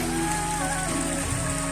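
Water pours steadily from a historic stone water spout in a forested setting, a continuous close splashing rush that stays loud and even throughout.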